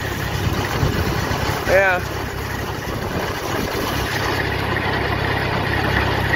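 A tractor fitted with a bedding beater for spreading cattle bedding runs at half throttle, a steady mid-pitched engine drone with mechanical rumble throughout, and a brief spoken word near the start.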